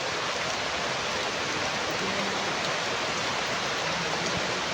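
Heavy rain pours down in an unbroken, loud hiss for the whole stretch, dense and even with no pauses.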